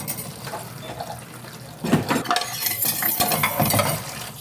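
Tap water runs and splashes faintly while dishes are washed in a home kitchen, with soft clinks of utensils as the flow grows louder partway through.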